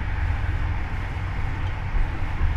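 Steady low rumble and rolling noise inside a Jaka Tingkir economy New Generation passenger train running at speed between Jakarta and Yogyakarta, a continuous, fairly loud drone with no voices.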